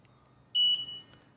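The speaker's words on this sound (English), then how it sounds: "So we have a beep." An RC EYE Navigator 250 quadcopter drone gives a single short, piercing electronic beep that stands out clearly against a quiet background.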